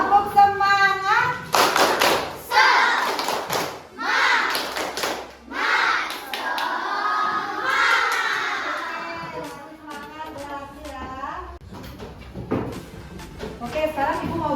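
Students in an Indonesian classroom perform the rhythmic 'tepuk semangat' spirit clap, sharp clusters of group claps in a patterned beat, close and loud, with voices chanting along between and over the claps.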